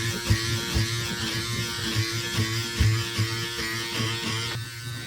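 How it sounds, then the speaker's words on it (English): Electric beard trimmer buzzing steadily against the body of a van, a continuous motor drone with small pulsing changes as it moves over the surface, close and moderately loud with no talk. "A beard trimmer. Let's see if this works."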